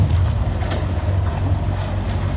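A boat pounds through rough sea with a heavy low engine drone, wind buffeting the microphone and water rushing steadily alongside, loud and close, without speech.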